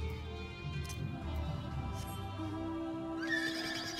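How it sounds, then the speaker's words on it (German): A golden horse mount in Final Fantasy XIV whinnies in a long, close neigh over steady game music, with a rising squeal near the end; no one speaks. "Ein goldenes Pferdchen."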